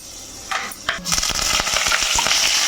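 Cumin and dried red chillies fry in hot oil in a pan. A steady crackling sizzle builds after a couple of sharp pops, with light stirring scrapes mixed in.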